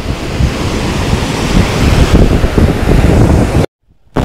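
Loud, continuous wash of surf on a beach in Goa with heavy wind buffeting the microphone, cutting out abruptly near the end before resuming.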